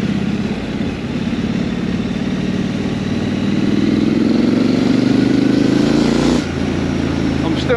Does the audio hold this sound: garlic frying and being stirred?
no